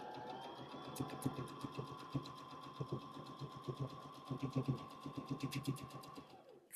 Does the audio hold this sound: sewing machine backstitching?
yes